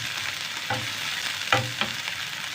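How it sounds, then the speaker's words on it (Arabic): Garlic cloves sautéing in hot oil give a steady, close frying sizzle, with a few sharper spoon clinks and scrapes from stirring. "اشوح بس التومه كده تشويحه بسيطه"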